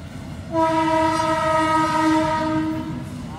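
Train horn blasting close and loud, one sustained rich chord of several tones that starts abruptly and holds for about two and a half seconds over a low rumble of the train.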